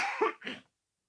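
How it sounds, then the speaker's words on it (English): A single close, sharp cough in two quick bursts, followed by silence. "That was a big cough there."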